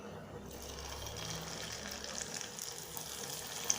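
Sugar candy dough for thaen mittai drops into hot oil over a medium flame, giving a soft continuous hiss and sizzle with occasional small pops, quiet and close.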